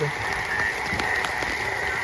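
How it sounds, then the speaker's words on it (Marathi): Heavy unseasonal rain falls hard and steadily outdoors, a dense continuous patter with faint frog-like croaks mixed in, moderately loud and unbroken. "पाऊस बघा किती एकदम जोरदार चार वाजल्यापासून पाऊस आहे"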